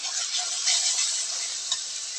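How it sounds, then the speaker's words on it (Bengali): Ground chili, cumin and salt sauté in a pan, a soft steady hiss of frying with faint stirring scrapes, close but quiet, with nobody speaking. "ভালোভাবে মশলাটা কষিয়ে নিব।"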